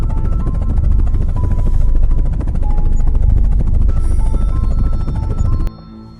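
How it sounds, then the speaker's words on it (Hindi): A cartoon helicopter's rotor thumps steadily and loudly, close overhead, with a dense low whir, then cuts off abruptly near the end as it lands. "तभी हेलीकॉप्टर की आवाज आने लगी।"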